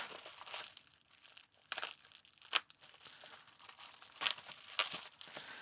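Duct tape being carefully sliced and peeled away from a package holding PC Engine items, heard as close crinkling and tearing with several sharp crackling bursts.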